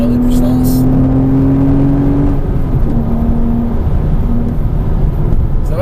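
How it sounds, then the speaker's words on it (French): A Porsche Cayman S engine revs hard during a driving course at the Grand Sambuc track, its rising whine sustained and loud inside the car while a person talks over it. "laisse-la bien monter dans les tours pour avoir des puissances"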